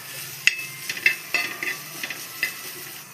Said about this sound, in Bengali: সব কিছু ভালো করে একবার মিক্স করে নেব।